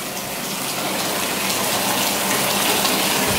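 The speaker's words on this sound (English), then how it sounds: "I'm running my bath and then a shower in the back and it's outdoors." Water gushing steadily from a tap into a bathtub at an outdoor bathroom in Bali, a loud, continuous rushing fill close by with no talking.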